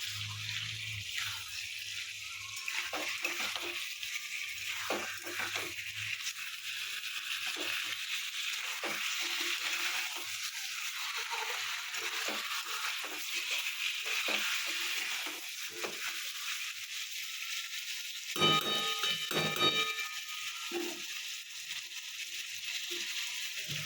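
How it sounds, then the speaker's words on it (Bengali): Chicken meat sizzles and fries steadily in a pan as it is stir-cooked with oil for a chicken and spinach dish, a continuous close crackle with occasional scraping stirs and no talking. "মাংসটাও দিয়ে দিয়েছি, এবার মাংসটা কষাবো।"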